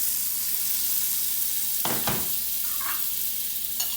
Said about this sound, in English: So in go the onion. We'll stir it up